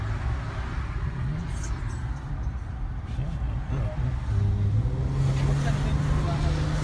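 Steady low engine drone from a Cadillac CT6 with a 3.6-liter V6 while driving, a continuous moderate rumble with a tonal hum rising near the end, heard from inside the car with faint voices over it.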